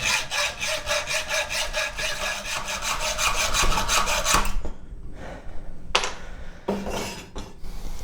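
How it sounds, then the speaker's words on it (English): Rapid back-and-forth rasping of a file smoothing metal on a homemade guitar fret hammer, rhythmic strokes close and steady for several seconds, then a few scattered separate scrapes, with no voices. "you might need to clean that up with a little file"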